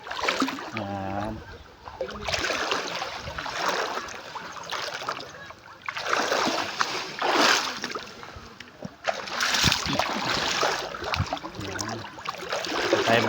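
River water flows and splashes steadily through the whole stretch, loud and close, with bursts of rushing and splatter and brief voices talking over it at times.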